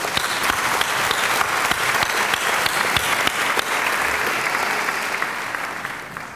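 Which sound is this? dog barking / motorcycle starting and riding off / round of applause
round of applause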